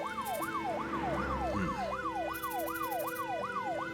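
An ambulance siren from the video game Troubleshooter: Abandoned Children wails in a steady, rapid rising-and-falling cycle. It is loud and continuous over a low background hum, with no talk.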